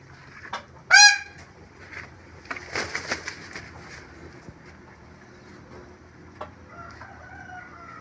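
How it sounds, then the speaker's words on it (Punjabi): A Java pied peacock on a bird farm gives a loud, sharp honking call, one strong cry followed by a short rapid series of softer calls, close by amid faint background noise. "ਇਹ ਪਾਈਡ ਮੋਰ ਹੈ ਜੀ, ਬਹੁਤ ਨਾਯਾਬ ਹੈ, ਅੱਛੀ ਕੁਆਲਿਟੀ ਦਾ ਜਾਵਾ ਪਾਈਡ"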